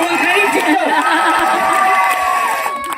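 An audience at a Guru Poornima stage show cheers and shouts in a loud, continuous crowd roar, with excited voices rising over the din and scattered clapping mixed in.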